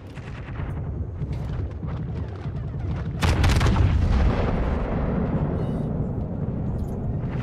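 Heavy naval guns firing armor-piercing shells in World of Warships, a continuous rumbling barrage of deep booms with a louder, closer salvo surging about midway through.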